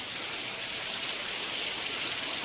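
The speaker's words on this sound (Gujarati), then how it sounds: "વરસાદ તો એટલો વરસે છે ને વાત જ નહીં કરવાની" Steady, dense rain hiss fills the whole stretch, a continuous wash of heavy rainfall with no pauses or voices.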